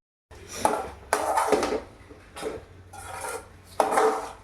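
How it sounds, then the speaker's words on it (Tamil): Dried prawns are tossed in a pan with a spatula, giving four close bursts of scraping and clattering separated by brief quiet gaps. "இந்த இறாவை வந்து இதில் சேர்த்து வதக்கிக்கலாம்"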